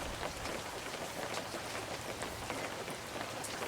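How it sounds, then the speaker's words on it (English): Rain effect from the video game Webfishing: a steady, soft, unbroken patter of raindrops on surfaces, faint and even throughout with no voices. "the rain effect in web fishing is really short"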